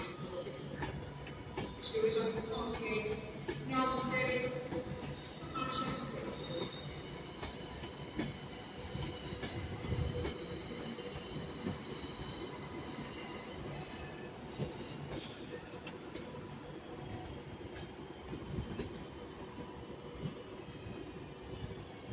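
A train moves through Manchester Piccadilly station with wheels squealing, high metallic tones ringing over a low rolling rumble, moderately loud and continuous with no talk.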